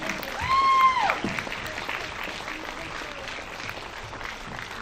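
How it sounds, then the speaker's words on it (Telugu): Audience applause at an NTR centenary celebration event in Perth, Australia, welcoming a guest onto the stage: steady, fairly loud crowd clapping throughout, with a brief whistling tone near the start. "ఒక్కసారి మీ బిగ్ చప్పట్లతో మన నందమూరి వసుంధర గారిని స్టేజ్ మీదకి రావాల్సిందిగా కోరుతున్నాను."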